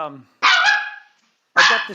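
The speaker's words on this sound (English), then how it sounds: "It's my bloody dog." A dog gives two loud, close barks separated by a short silence, each bark sharp and full, with no talk over them.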